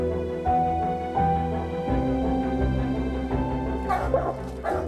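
A dog whines and yips in short, rising whimpers, with a few bark-like bursts near the end, fairly close and alone, recorded in the field during a puma capture in France.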